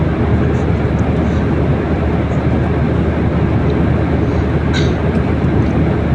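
A steady, loud roar of jet engines fills an airplane cabin at cruising altitude over the sea, a constant broadband drone with faint voices beneath.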